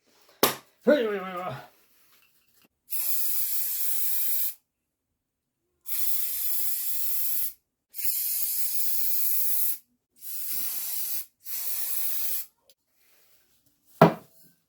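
Aerosol can of Pro Coat spray finish applied onto wood, heard as five steady hissing bursts of a few seconds each separated by brief silences, close and loud, with a short voice near the start and a knock at the end.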